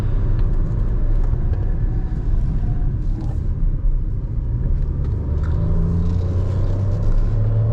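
A 2021 MG Astor turbo car pulls hard in third gear, its engine droning steadily under a constant road rumble, loud and close throughout with no talk.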